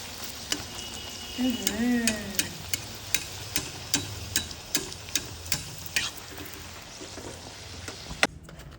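Continuous bubbling sizzle of pea-stuffed kachoris deep frying in oil, with a steady series of regular ticks and clinks, and a brief whistling tone early on.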